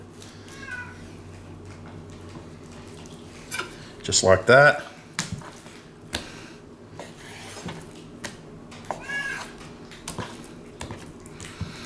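A cat meows a few times, nearby and moderately loud, amid kitchen clatter of dishes and utensils while a person talks and splits a chicken breast.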